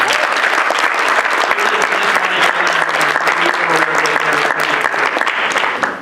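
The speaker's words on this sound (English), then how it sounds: "Please give her a round of applause." A roomful of people applauds at an evening provider meeting: loud, dense, continuous clapping that holds steady and then tapers off at the very end.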